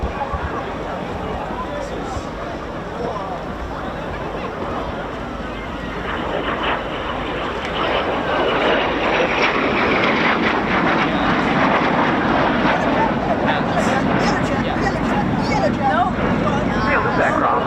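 A Folland Gnat jet flies past at an RAF Cosford air show, a broad roar that builds and swells over several seconds and stays loud to the end, with wind and crowd noise mixed in.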